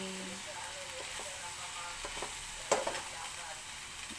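Bitter gourd and glass noodles are stirred in a hot pan. A soft, steady sizzle runs under light scraping and a sharper clatter near the middle, with no talking.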